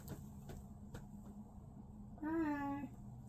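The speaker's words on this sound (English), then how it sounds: "She said meow" A single short meow rises clearly near the end of a quiet stretch marked by a few faint knocks and low background hum.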